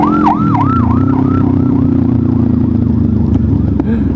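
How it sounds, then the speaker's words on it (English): Police car sirens wail close and loud in a fast repeating yelp over heavy traffic and engine rumble during a group motorcycle ride, the warble then settling into a steadier tone. "those police sirens, bro, they make me panic"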